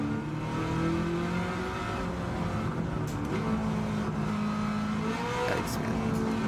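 A race car engine in Gran Turismo 7 drones and revs in shifting tones as the car accelerates. Gear changes break up the sound, and a brief tire squeal comes near the end over steady noise.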